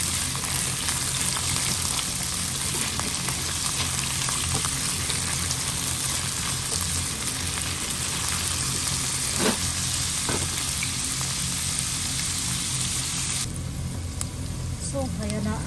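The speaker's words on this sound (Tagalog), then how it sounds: "Yung i-fry natin siya." Potatoes frying in a pan give a steady, loud sizzle that runs throughout, with a few clinks of stirring and a voice talking over the cooking.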